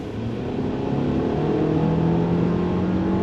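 A VW Tiguan SE's turbocharged engine pulls steadily under throttle from inside the cabin, a loud continuous drone rising gradually in pitch over a few seconds, with no talking.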